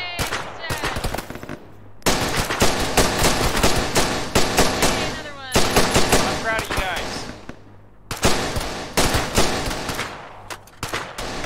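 Dense bursts of automatic machine gun fire in the Arma 3 video game, long rattling volleys from several weapons overlapping, with brief pauses between bursts and voices talking faintly underneath.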